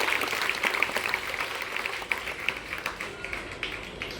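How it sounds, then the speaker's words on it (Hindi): Applause from a gathering at a public intercollege honoring two high-achieving students, a thin, fairly faint patter of scattered hand claps with a few sharper individual claps standing out. "एक बार उनके लिए जोरदार ताली बजाएं सभी"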